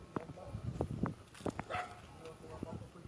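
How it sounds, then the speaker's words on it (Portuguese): Dogs on a rural farm give several short barks and yips, some near and some farther off, scattered under a person's talk. "lá vem os cachorros"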